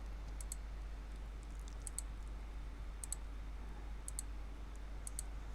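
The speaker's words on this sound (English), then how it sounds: "Let's click something else. There we go. Let's click on it." A computer mouse clicked in pairs, a quick double tap repeating roughly once a second, faint and close over a steady low electrical hum.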